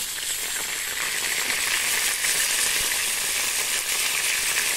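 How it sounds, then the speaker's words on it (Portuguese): Meat frying in a pan, a steady, loud sizzle with occasional crackles and pops running throughout without any talking. "deixou uma carninha aqui fritando"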